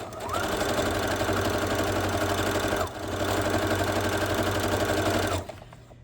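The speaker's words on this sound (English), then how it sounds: "chain piecing is just sewing one section, one block, 2 pieces of fabric, whatever you're making, one right after the other without stopping to cut your thread" A sewing machine chain-piecing quilt fabric runs in two long, steady bursts of stitching with a brief pause between them, loud and close, then stops near the end.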